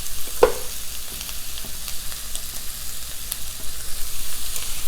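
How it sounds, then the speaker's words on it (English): Garlic and chopped vegetables sizzle steadily in a hot pan with sausages nearby, a continuous crackling fry broken by a sharp clack of the utensil early on and soft scraping stirs throughout, close and fairly loud. "mix the garlic and the veggies around"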